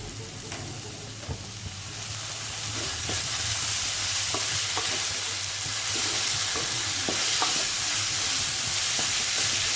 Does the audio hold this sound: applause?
no